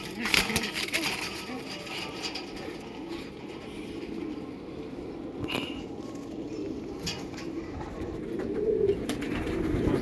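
Fulshira pigeons with black beaks and black nails coo softly and flutter their wings while being held in the hand at a home loft; a faint voice is heard in the background.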